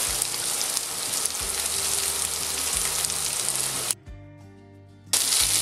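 Potatoes and lardons sizzle loudly in a frying pan, a dense steady hiss broken by a brief drop around the four-second mark before the full frying noise returns.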